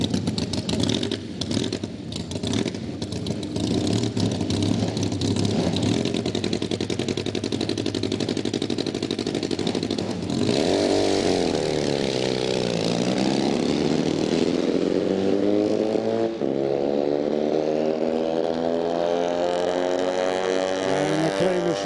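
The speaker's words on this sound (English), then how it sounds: "could hear just that motor didn't want to run at the bottom end" A drag racing motorcycle roars down the strip, its engine stuttering and crackling rough at the bottom end before climbing into a loud, sweeping high-revving scream that fades slightly as it pulls away.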